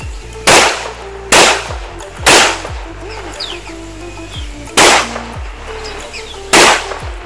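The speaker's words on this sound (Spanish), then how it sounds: "sacamos el primer disparo" Traumatic pistol shots fired in double action, five sharp loud cracks spaced about a second or more apart, each ringing briefly, fired close by with no talking.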